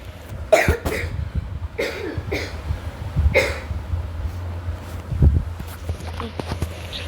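A person coughing several times in short, sharp bursts, close to the mic over a low steady background hum.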